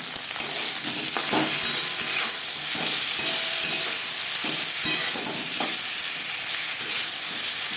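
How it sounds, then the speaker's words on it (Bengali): Ginger paste and green and ripe red chili paste being stirred and fried in a pan, a steady close sizzle with repeated scraping strokes of a spatula throughout. "কাঁচা গন্ধ যাওয়া পর্যন্ত নাড়াচাড়া করে নেব।"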